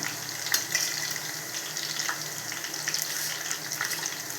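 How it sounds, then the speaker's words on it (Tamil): Crushed garlic sautés in hot oil in a pan, giving a continuous bubbling sizzle with light crackles and a few soft stirring clicks, moderately close, with no talking. "எண்ணெய் காயவும் தட்டி வச்ச பூண்டு சேர்த்துக்கிடலாம். வாசம் வர வரைக்கும் வதக்கிக்கிடலாம்."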